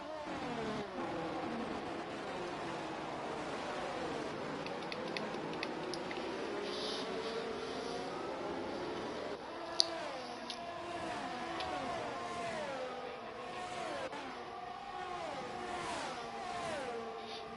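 Formula 1 cars from the F1 23 video game race around the Japan circuit, several engines whining and rising and falling in pitch as they pass, a steady loud roar throughout with no voices.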